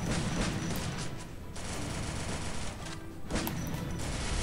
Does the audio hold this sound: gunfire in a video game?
yes